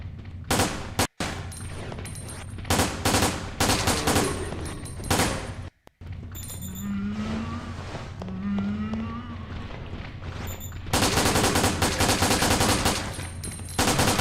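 Handgun fire in Resident Evil: Dead Aim, loud rapid bursts of shots in dense runs with brief pauses, a quieter stretch in the middle, then sustained firing again toward the end, with no voices.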